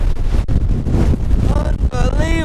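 Strong wind buffets an outdoor microphone near the Old Man of Storr on the Isle of Skye, with loud continuous rumbling gusts and a brief voice near the end.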